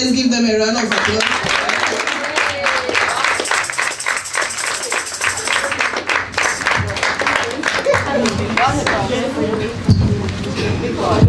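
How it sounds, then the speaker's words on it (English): Steady clapping from a gathered audience at a Mother's Day tribute, continuous and fairly loud throughout, with crowd voices and a speaker's voice mixed in around it. "let's give them a round of applause"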